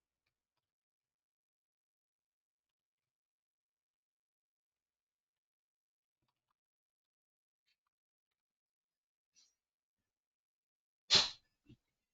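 A single sharp sneeze bursts out near the end after a long stretch of near silence, followed by a faint brief sound.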